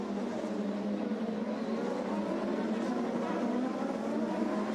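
IndyCar race cars on the 2001 Toronto street circuit braking hard into a right-hand corner, a steady dense engine drone under crowd and broadcast noise, continuous and moderately loud throughout.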